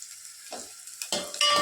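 Green chili and curry leaves sizzle and crackle in hot oil in a pan, in short bursts of frying hiss with a brief stirring scrape, close up.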